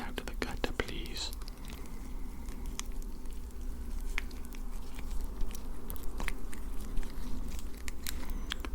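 Close, wet squelching and slick rubbing noises from latex gloves coated in Vaseline, sticky and irregular, with faint crackles and some quiet breathy sounds over a low background hum.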